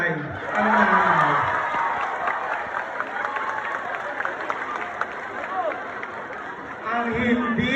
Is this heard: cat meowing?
no